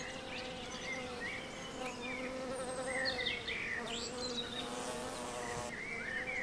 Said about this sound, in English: High season in spring is a very strenuous time for bees.